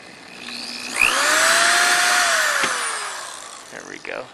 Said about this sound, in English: We're drilling a hole for the other one.